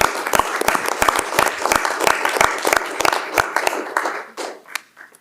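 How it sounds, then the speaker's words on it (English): Scattered applause at a school board meeting honoring student athletes, a small crowd's distinct individual claps sounding close and fairly loud, thinning out and fading to near silence over the final second. "let's give our athletes a great round of applause"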